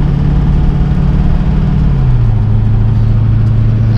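An LBZ Duramax pickup truck's engine tows a dozer up a windy, hilly road at night, a loud, steady low drone whose pitch shifts down midway.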